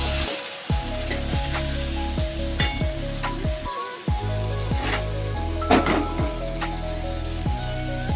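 Chicken pieces hiss and sizzle loudly as they are added to fried masala in a hot pan, with steady crackling throughout and repeated scraping strokes of a spoon, no voices.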